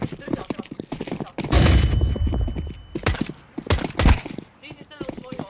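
Gunfire in the video game Counter-Strike 2, with several sharp shots and one longer burst that come in irregular bunches, close and loud, while players talk between and over them.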